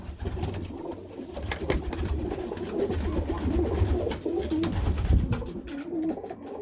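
Pigeons coo in a low, throaty murmur, several birds close by, overlapping steadily with soft flutters and rustles around them.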